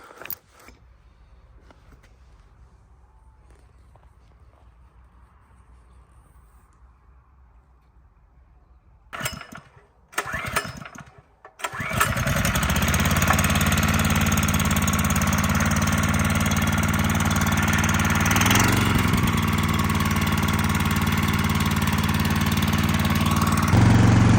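A water pump's small engine at a carp fishing lake catches after a few rough, sputtering pulls, then settles into a loud, steady running drone that holds for the rest of the clip.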